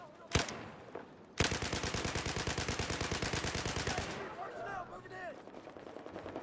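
In the video game Battlefield 4, a single loud shot, then a rapid burst of automatic gunfire lasting a few seconds, followed by scattered fainter effects with a voice murmuring faintly.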